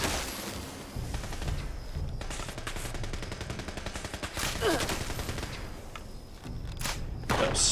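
Rapid automatic gunfire from the Fallout 76 video game, bursts of shots rattling almost continuously with heavier thuds mixed in, loud and close throughout.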